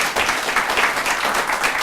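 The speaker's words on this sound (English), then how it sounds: "how about a big round of applause for our panelists?" An audience at a veterans employment seminar applauds the employer panelists, a brief, loud, continuous burst of clapping from a room of people with slight voices mixed in.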